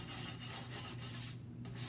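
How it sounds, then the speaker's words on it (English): Light sanding of a tray with a sanding sponge before chalk painting, focusing on the rough edges; a steady soft rubbing rasp runs continuously and close, with no talk. "take your tray and your sanding sponge or sheet of sanding paper and just kind of lightly"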